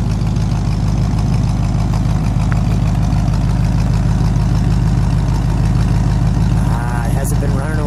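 A loud, steady 1955 Dodge Royal Lancer engine idling close by, a constant low rumble throughout with no change in pace.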